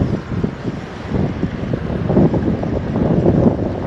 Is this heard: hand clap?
no